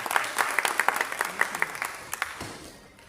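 A seated audience claps at a felicitation ceremony for a drama academy award winner at a cultural hall in Bengaluru, with moderate, steady applause that gradually thins out and fades over about three seconds.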